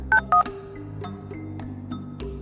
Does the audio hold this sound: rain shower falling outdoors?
no